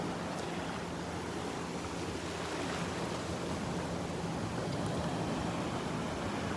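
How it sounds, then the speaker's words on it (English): Ocean surf at Delnor-Wiggins beach on a morning walk, a continuous broadband wash of breaking waves with light wind, steady and even throughout. "I'm looking at these waves."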